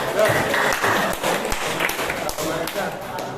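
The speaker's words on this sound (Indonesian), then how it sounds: "Tepuk tangan dulu untuk Pak Prabowo." Audience clapping for Pak Prabowo at a school workshop, a moderate burst of hands clapping together, fairly close and even, with some voices mixed in throughout.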